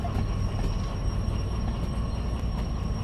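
A tram runs on rails in a train simulator game, a loud continuous low rumble with rhythmic wheel clatter and a faint high squeal, unbroken throughout.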